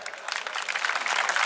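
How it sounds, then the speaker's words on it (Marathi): A crowd at a village kushti wrestling akhada claps for the event's donors, producing dense, continuous applause that stays fairly even and close. "देणगीदारांसाठी टाळ्या करा की जरा"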